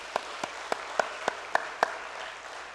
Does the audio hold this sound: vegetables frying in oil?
no